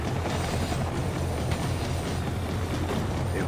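A moving train in the shooter game Max Payne 3, a steady rumbling rail roar with rhythmic clickety-clack from the wheels and faint metallic squeals, constant and close, with no voices.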